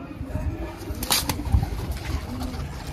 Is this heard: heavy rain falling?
no